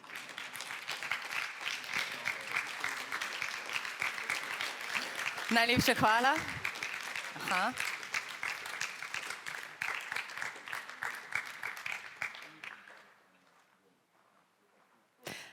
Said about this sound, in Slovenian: Saj lahko ploskate še vedno.